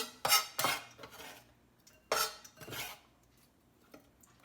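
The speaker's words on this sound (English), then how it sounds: "I'm going to mix that together in" A spoon stirs a mixture in a small bowl, giving a few close clattering scrapes and clinks in two short bursts, then quieter taps.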